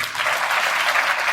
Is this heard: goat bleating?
no